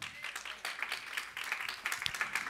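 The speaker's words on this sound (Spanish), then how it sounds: "¿Cuántos le dan palmas al Señor?" A church congregation claps for the Lord in a continuous, even patter of many hands, steady and moderately loud with no voices over it.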